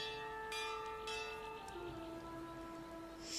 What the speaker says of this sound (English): Who's rung the bell and why?